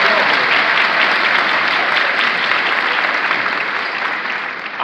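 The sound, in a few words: applause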